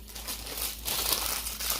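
Packing tape peeled off a collector's statue box is crumpled by hand, giving close, crisp crinkling and crackling in a few bursts over a couple of seconds, with no voices.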